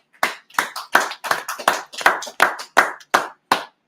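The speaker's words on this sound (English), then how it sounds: "Clap it up." A congregation claps in a steady rhythm at a Sabbath service, about a dozen sharp, loud hand claps in quick succession with no voices between them.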